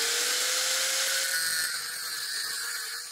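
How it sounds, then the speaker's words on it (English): A step drill bores out holes in metal for a homemade band saw's upper wheel shaft, a whining power-drill spin that sounds steadily and slightly lower at the end, close and fairly quiet with no voices. "I'm going to use a step drill to make the holes slightly bigger"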